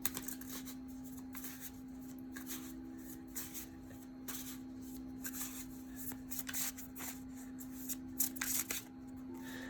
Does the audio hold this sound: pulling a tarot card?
yes